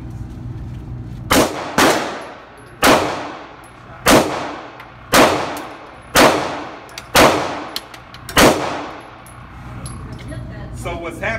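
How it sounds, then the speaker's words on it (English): Eight loud, close pistol-style shots fired at an orange target, spaced roughly a second apart with a short pause after the first, each sharp crack trailing a brief ringing decay. "So let me take a couple of shots and we'll see how I do"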